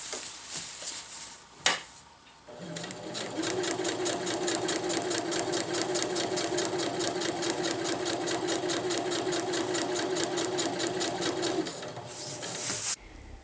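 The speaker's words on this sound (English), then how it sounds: "I'm tucking the fabric back through the machine as I move along" A sewing machine stitches a winter tarp's ridgeline seam in one long, steady run of rapid, even needle clatter after a brief thump and pause, with faint bird cooing in the background.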